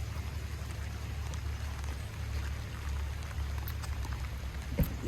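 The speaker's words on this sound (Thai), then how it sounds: "ฝนก็ตก" Rain falls steadily outdoors as a continuous patter over a low rumble, with a brief soft thump near the end and no talk.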